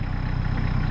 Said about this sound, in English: The Massey 1643. Since the truck's Little Red, we'll call the tractor Big Red.